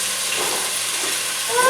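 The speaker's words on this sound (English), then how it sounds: "Let them saute for a while till they're a little nice and" Red potatoes sizzle in a hot pan, a close, steady broadband hiss of sauteing that holds evenly throughout the short stretch, with a faint tonal squeak near the end.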